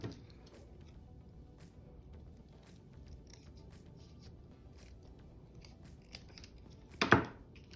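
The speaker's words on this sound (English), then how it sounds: "Let me cut this in half." Scissors cutting a piece of plaid fabric in half: quiet faint snipping through low room noise, ending in one louder, sharper crunching cut near the close, no talking.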